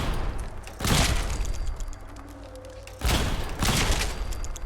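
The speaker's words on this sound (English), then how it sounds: "It's like shooting Mirelurks in a cage." Gunfire at Mirelurks in the Fallout 4 video game comes in two loud, rapid bursts about two seconds apart, with a quieter lull between them.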